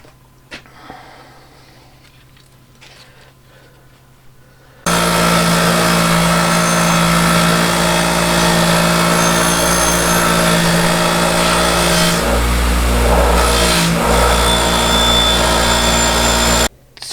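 A bench wire wheel grinds rust off a vintage Plumb axe head, starting abruptly after a quiet lead-in and then running as a loud, steady whir with a brief change in tone near the end before stopping.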